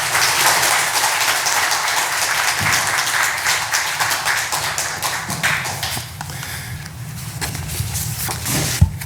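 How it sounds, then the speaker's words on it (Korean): A church congregation at a Sunday worship service applauds loudly and steadily for a pastor being welcomed, with a dense sustained wash of clapping that thins slightly toward the end. "박수로 맞아주십시오."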